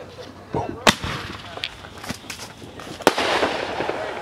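Fourth of July fireworks going off outdoors, a run of sharp irregular bangs and pops, some near and loud, others softer, with excited voices and chatter between the blasts.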